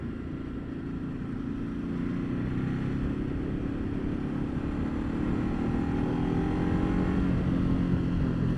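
A Ducati Multistrada 1200 motorcycle rides along a road, its engine a steady, close drone under rushing wind noise, with a slight rise in pitch near the end.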